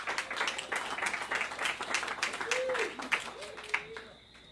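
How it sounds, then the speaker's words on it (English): A small audience claps at an evening event, light scattered applause mixed with murmuring voices, then it thins out as a speaker begins talking. "So a round of applause for Oscar."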